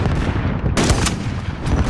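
Rapid gunfire in Call of Duty: Modern Warfare, a loud cluster of sharp shots close by over busy game noise, with no talk.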